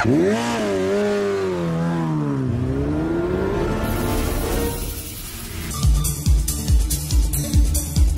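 A red motorcycle's engine revs and clatters close by. Its pitch rises and falls in long sweeps, then the engine settles into rapid, pulsing bursts.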